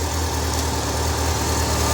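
A 2001 Honda CBR 600 F4i motorcycle with its original engine and stock exhaust idles close by, giving a steady, loud, even drone with no speech over it.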